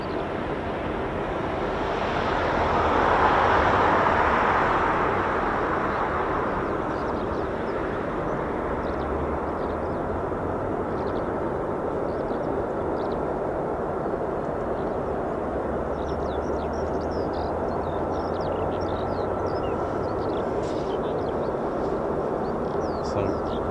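A C-12 aircraft arrives at an RAF airshow, its engine drone a steady, broad rumble that swells early and then holds as a distant wash mixed with wind.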